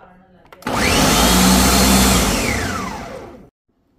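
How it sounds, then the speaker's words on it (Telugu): A kitchen mixer grinder whirs loudly for about three seconds, grinding raw mango, coconut and soaked lentils for Ugadi pachadi. It starts abruptly, holds a steady roaring drone, then cuts off sharply. "మిక్సీ వేసేస్తే పని అయిపోద్ది."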